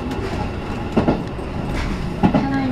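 JR Central local electric train running on the Taketoyo Line between Obu and Owari-Morioka, heard from inside the car: a steady rolling rumble with two distinct clickety-clack wheel thumps over rail joints and a faint squeal.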